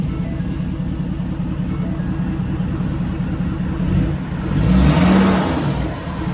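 A truck's exhaust rumbles at idle close by, then swells into a brief rev and settles back down.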